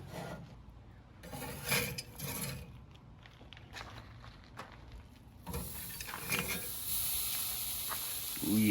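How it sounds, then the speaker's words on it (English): The charcoal tray of an Oklahoma Joe's Judge grill is raised toward the grate with scraping, rasping metal rubs and scattered clanks, close and moderately loud, ending in a louder stretch of grinding. "just raise it up, bring it closer to the grate"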